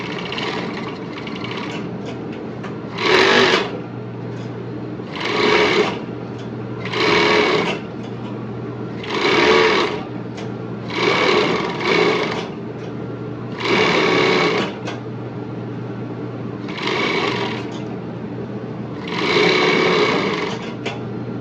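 A sewing machine runs in repeated bursts of rapid stitching while finishing a swimwear seam, each run lasting a second or so with pauses between, close and clear over a steady low hum.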